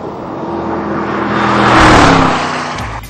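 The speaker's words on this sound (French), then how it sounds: "Je viens de m'offrir la toute dernière McLaren SLR 722 et vous allez le voir," A McLaren SLR 722 supercar engine swells and roars as the car builds speed and passes close, the sound peaking loudly near the middle before easing off, with no talk.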